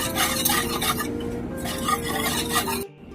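Spices like coriander powder, salt and sugar being mixed for curry leaf pakora: a steady, close scraping and stirring with light clinks of a utensil against a bowl, then it suddenly drops away near the end.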